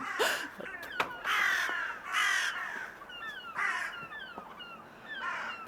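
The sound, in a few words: crows cawing at dawn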